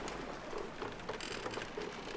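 Steady rain falling during stormy weather at sea in The Journeyman Project 3 adventure game, a soft continuous patter with scattered droplet ticks and no voices.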